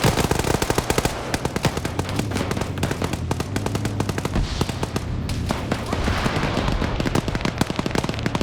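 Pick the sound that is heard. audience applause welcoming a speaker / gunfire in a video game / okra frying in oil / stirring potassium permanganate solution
gunfire in a video game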